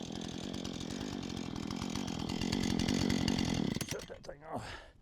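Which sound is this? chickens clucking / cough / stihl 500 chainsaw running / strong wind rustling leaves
stihl 500 chainsaw running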